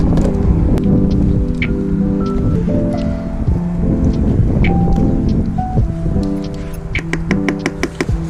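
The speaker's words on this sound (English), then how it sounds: "It's so windy." Strong wind roars and buffets the microphone outdoors at a camper van build site, a loud, constant low rumble with faint steady tones running beneath it.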